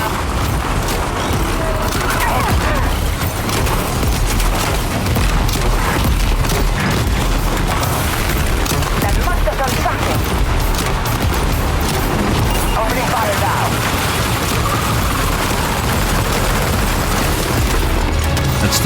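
A grenade launcher firing in Death Stranding 2, with booming blasts and explosions layered over a loud, continuous wash of combat noise, heavy and sustained throughout, with a voice talking over it.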